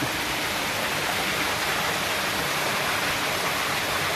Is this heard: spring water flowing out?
yes